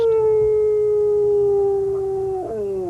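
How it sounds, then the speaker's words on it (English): A group of up to 18 hungry, malnourished Afghan hounds howl from inside animal control cages, a loud, sustained wailing tone held steadily and sliding slightly downward, with other dogs yelping faintly underneath. "The dogs cried out from inside animal control cages just after they'd been moved."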